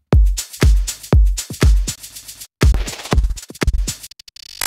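Arturia Efx Motions plugin processing a punchy beat with filter, noise and drive effects: four heavy thumping hits followed by choppy, stuttering rhythmic bursts and a gated noisy tail, loud and without talk.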